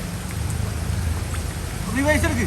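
Steady rain hisses and patters continuously, with a brief voice near the end.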